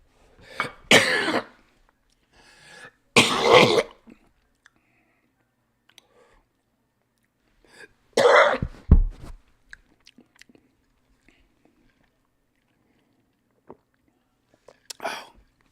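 Several sharp coughs in short bursts, separated by silence, with a couple of faint clicks and a last brief cough at the end.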